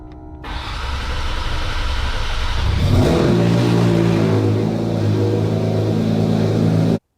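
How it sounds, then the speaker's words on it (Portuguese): A rebuilt Porsche 911 GT3 RS with a PDK gearbox, recovered after being submerged in water, fires up for the first time and revs loudly and close, dropping into a steady rumbling idle. "Vamos ouvir o ronco pela primeira vez."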